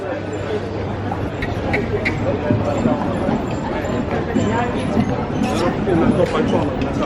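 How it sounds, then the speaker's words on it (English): A horse-drawn carriage's hooves clip-clop steadily along a road in Brussels beneath continuous nearby talking, with faint background chatter. "it's just such a lovely day as well to take a horse and carriage ride"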